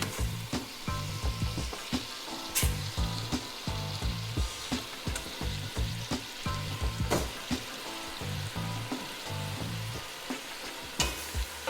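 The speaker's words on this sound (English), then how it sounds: "we're going to start adding the oxtails right into that" Oxtails browning in a pot of caramel-colored sugar liquid for Jamaican oxtail stew, giving a steady loud sizzle broken by sharp pops and repeated stirring scrapes, with no talking.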